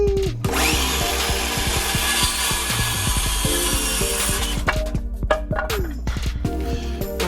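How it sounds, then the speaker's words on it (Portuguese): A power tool cuts a wooden board for a bird feeder with a loud, steady whine and grinding rasp that cuts out partway through, followed by scattered knocks and handling of the wood, close by. "Vamos cortar essa madeira então, vamos marcar ela e vamos cortar?"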